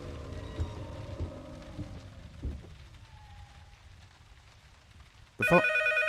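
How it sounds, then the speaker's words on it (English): An electronic ringtone in the horror game P.T. cuts in suddenly near the end, loud and insistent after a stretch of quiet rainy ambience and creaking, with no voices. "That's a phone call, right?"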